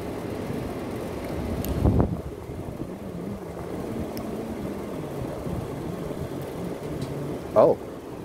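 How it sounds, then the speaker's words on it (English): Outdoor wind buffets a microphone with a constant rushing roar, joined by a low hum and two brief louder bumps. "It's windy."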